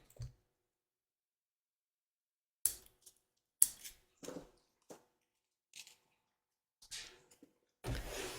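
Scissors trim a thread tail on a sewn gift card holder, giving a few sharp, close snips and clicks separated by silence, with a brief rustle at the end.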